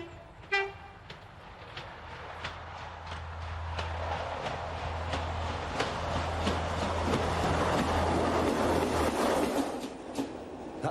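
A train runs along a railway track beside a house set in an old railway station, opening with a short horn blast, then a rising rumble and rhythmic clatter of wheels that grows loud as it passes.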